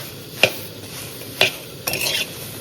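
Curry leaves fry in a pan for karivepaku podi. Under a steady sizzle, a spoon scrapes the pan in three distinct strokes, with the last one a longer stir.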